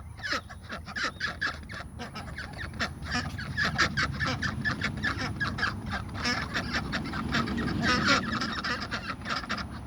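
A flock of young Ancona ducks in a garden quack and honk repeatedly, many overlapping loud calls close by in a busy continuous chorus.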